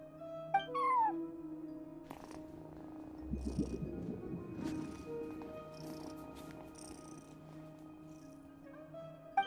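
A cat at an unattended front desk gives a short meow near the start and another brief call at the end, with soft purring and quiet indoor background hum in between.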